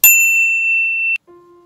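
A single bright notification bell dings loud and clear, rings out for about a second, then cuts to a softer, lower tone.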